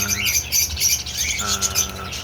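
Pet lovebirds chirp and squawk close by, a busy overlapping run of sharp, shrill calls that keeps going without a pause.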